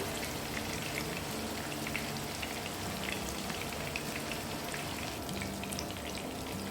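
Green masala fish fries in a little oil in a pan, a continuous even crackling sizzle like light rain that holds steady throughout without talk.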